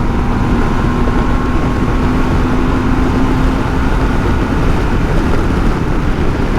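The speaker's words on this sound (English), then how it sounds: "Now 6th gear roll on again." A BMW K1600 GT motorcycle rolls on the throttle in sixth gear, its engine a steady loud drone mixed with heavy wind rush that holds constant throughout.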